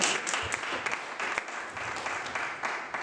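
Church congregation applauding together at a sermon, sustained dense clapping throughout, fairly distant and moderately loud, with no voices standing out.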